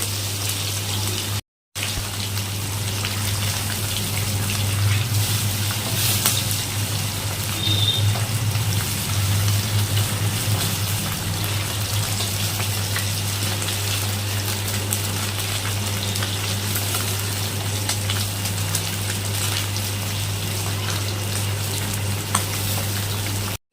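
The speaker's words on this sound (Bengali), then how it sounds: "দুই পিঠ ভালো করে ভেজে নিতে হবে" Boroli fish fries in oil with a continuous dense sizzle that holds at an even level for the whole stretch, over a low steady hum, broken once by a brief gap.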